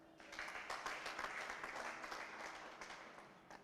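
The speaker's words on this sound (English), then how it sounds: "Why wouldn't we clap for that?" An audience claps steadily for a youth livelihood event, giving dense, sustained applause at a moderate distance with no voices over it.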